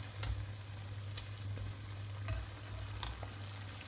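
Chicken kachoris deep-frying in oil over medium heat, a steady low bubbling sizzle with a few faint clicks and taps, constant and moderately quiet throughout with no talking.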